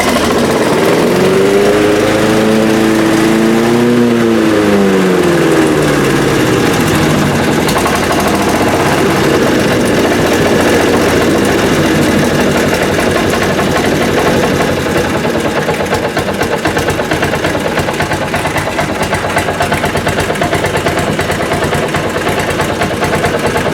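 A Japanese-made Honda HR21 lawn mower with an aluminum deck runs loud and close, its steady engine drone carrying a rattling blade chatter throughout, with a rising and falling pitch sweep near the start.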